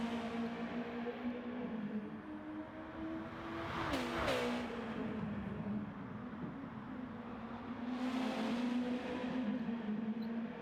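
Honda NSX race car in a racing game, its engine droning steadily at high speed with a sustained tone, slight pitch shifts around gear changes, and other cars swelling past.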